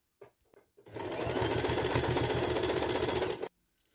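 A sewing machine stitches a row of fabric for a patchwork piece, running as one steady rapid mechanical chatter for about two and a half seconds. A few faint clicks come before it starts, and it then stops abruptly.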